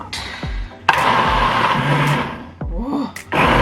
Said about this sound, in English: I don't have the top of the blender, which is supposed to stop everything from coming out